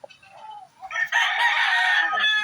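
A fighting gamecock crows once, loud and close: a short rising call, then a long, strained, harmonic crow lasting over a second that fades out at the end, with a few faint clucks beforehand and no talk.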